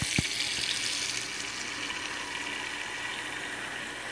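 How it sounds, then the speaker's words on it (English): Tap water runs steadily into a pot in a home kitchen sink, a continuous close hiss of flowing water with no talking. "Water is running."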